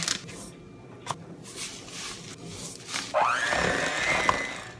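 Electric mixer whirring through pumpkin cheesecake cookie batter with vanilla and granulated sugar, starting with scattered bumps and then rising into a steady motor whine near the end.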